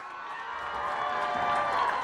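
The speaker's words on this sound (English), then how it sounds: "Let's have a nice round of applause for all the participants in today's championship match." An audience at a 2009 boys Class B state championship match applauds and cheers for the participants, a dense, sustained roar of clapping that swells gradually louder over two seconds.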